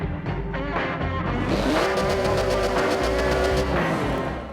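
A Porsche accelerates hard off the line in a Forza Motorsport 7 drag race, its engine climbing loudly through rapid gear changes with a sharp rising whine, close and unbroken.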